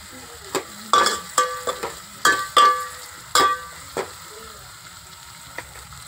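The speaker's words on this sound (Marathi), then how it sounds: "ते कांद्याच्याच बरोबर हिरव्या मिरच्या टाकून घ्यायच्या" Onions and green chilies hitting hot oil in a pan, giving a series of sharp sizzling bursts as pieces are added and stirred, each flare quickly fading before settling to a quiet simmer.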